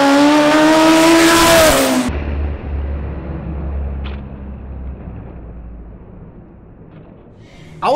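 A Gol 4x4 drag car tearing past on a drag strip at over 200 km/h, a loud high-revving engine whine that climbs, then cuts off abruptly, leaving a low rumble and quiet ambience.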